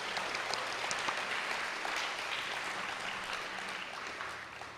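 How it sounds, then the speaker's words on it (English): A convocation audience applauds, steady dense clapping from many hands in a large hall that holds even and fades slightly toward the end. "Let's clap for them."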